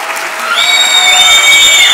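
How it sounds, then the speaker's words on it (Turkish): A conference audience applauds for a panel moderator, a dense wash of clapping with sustained electronic tones ringing over it. "Gözde'ye bir alkışlayabilir miyiz?"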